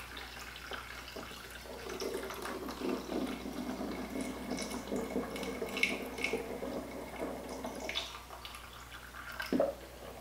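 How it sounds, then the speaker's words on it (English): Kombucha pours into a glass jar as a soft, continuous trickle of liquid with faint splashes. It is fairly quiet and close, and a small clink near the end suggests the jar being touched. "And then I'm going to top it with my delicious kombucha."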